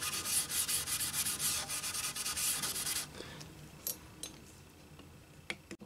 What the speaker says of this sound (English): They scrub with naphtha to clean.